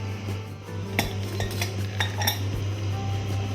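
A cooking pot of boiled lentils for Kerala-style pumpkin erissery is opened at close range, with a few sharp metallic clinks and scrapes of the lid and utensils over a low steady hum.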